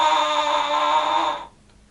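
A brass mouthpiece buzzed with the lips pinched too tightly at the center gives a steady, thin, pinched tone held for about a second and a half, then cuts off abruptly into quiet.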